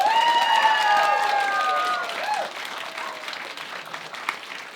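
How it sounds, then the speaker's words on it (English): A live radio show audience bursts into loud, sustained applause, with a few high tonal whoops or whistles riding over the first couple of seconds before the clapping settles and thins toward the end. "give these guys a big, big round of applause"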